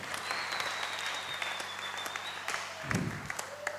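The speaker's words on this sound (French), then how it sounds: "On peut applaudir la parole du Seigneur." Applause from a church congregation during a French-language sermon fills the whole stretch, steady and moderately loud. A brief voice-like tone comes near the end.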